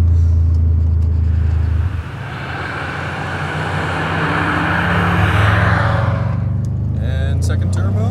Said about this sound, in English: Second turbo? Whoa! It picks up, it goes.